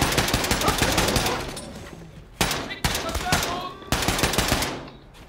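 Close-range machine gun fire in the Wolfenstein II video game: a long sustained burst, then several shorter loud bursts separated by brief gaps, with no talking.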